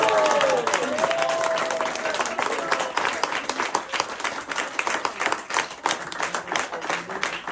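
An audience applauds at the closing and thank-you session of the Latécoère Explorer meeting. Dense, steady clapping fills the room, briefly under a voice at the start, then thins into scattered claps.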